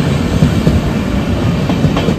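On the Howrah to Digha line, a Duronto Express rushes past a halted local train, a loud, close, continuous roar of rumbling wheels and rapid clattering.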